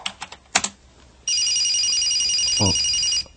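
A telephone ring sound effect in a Korean radio drama sounds as one loud, continuous electronic trill lasting about two seconds, preceded by a few sharp clicks and taps.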